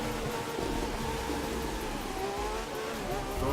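Race cars in The Crew 2, including a McLaren 12C, rev hard and roar past in a continuous loud engine drone with rising pitch sweeps near the end.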